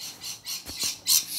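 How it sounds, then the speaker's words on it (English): Birds squawking outdoors in a quick run of harsh, bright calls, moderately near and fairly faint, with brief gaps between bursts and no voices. "you listening to these amazing birds and their noises"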